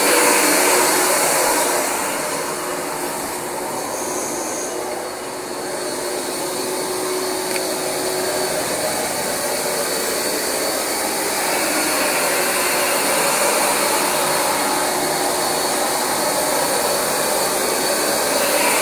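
Rug Doctor X-3 carpet cleaner running steadily with a loud, constant motor and suction whine that holds at an even level throughout, with no voices.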